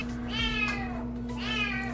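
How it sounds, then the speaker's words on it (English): A cat gives two loud, close meows, the second longer and drawn out, over a steady low electrical hum. "He screams, he meows, especially when I feed him."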